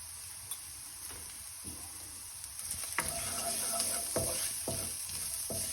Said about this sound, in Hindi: अब हम इसमें हल्दी डाल ही देते हैं।